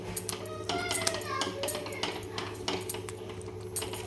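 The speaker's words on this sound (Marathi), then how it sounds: "हे आपण थोडं थोडं करून याच्यामध्ये हटवून घेणार आहे आणि ह्या गाठ्या आपल्याला छान फोडून घ्यायच्या" A metal spoon stirs and scrapes besan batter in a pan to break up lumps for pithla, giving repeated close clinks and scrapes in an irregular rhythm, with faint voices in the background.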